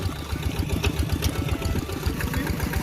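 A tractor's diesel engine chugs steadily nearby in a rice field with a rapid, even throb and no voices.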